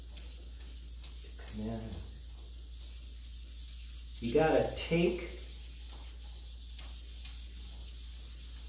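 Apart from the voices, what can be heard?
drip sanding old Steinway piano with oak block and water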